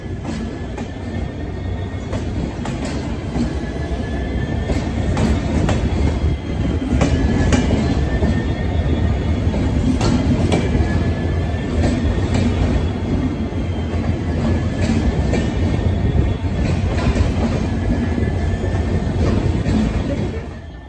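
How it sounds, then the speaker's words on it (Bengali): A double-decker train at Jaipur station in Rajasthan gives a steady, loud rumble of rail cars rolling past, with faint wheel squeal and clickety-clack over a continuous roar, with no voices. "এটা ডাবল ডেকার ট্রেন"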